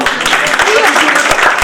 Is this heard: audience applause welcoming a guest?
yes